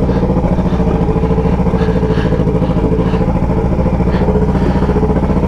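Yamaha XJ6 Turbo motorcycle riding through central São Paulo, a loud, close, steady engine drone with a pulsing, clattering rhythm throughout, and no talking over it.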